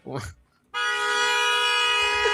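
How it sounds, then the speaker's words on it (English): A car horn held in one long, steady, loud honk that starts abruptly after a brief spoken word and continues unbroken to the end. "We're going to see how long he's just going to remain honking."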